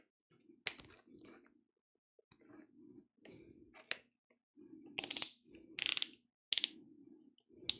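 Quiet mechanical ratcheting and clicking comes in short bursts, like a fastener being tightened by hand, with a few sharper metallic clicks.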